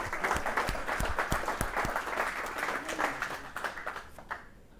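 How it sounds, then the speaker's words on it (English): An audience at a team launch event gives a quick round of applause, with sharp individual claps up front, then a thinning patter that fades out near the end. "please give them a quick round of applause"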